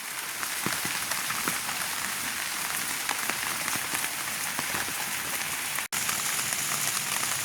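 Steady rain falls on a village farm with groundnut crops and small banana trees, a dense, even hiss of drops close by with scattered louder patters, continuous and with no talk.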